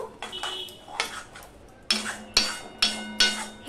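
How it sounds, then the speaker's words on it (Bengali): Bhindi masala being sautéed and stirred in a pan with yogurt and a little sugar, heard as repeated close metallic scrapes and clanks of a spoon against the pan in bursts over a soft sizzle. "এবার এটা আমি আরেকটু কষিয়ে নেব।"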